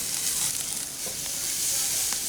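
Sous vide hickory-smoked tri tip sears in a hot pan with a steady, bright sizzle and hiss, close and continuous, with no voices.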